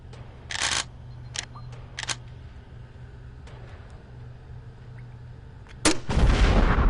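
Virtual gunshots fire in the Gun Club VR shooting game on PSVR, several sharp bursts spaced irregularly at close range, followed by a louder, longer blast of noise at the end; nobody talks.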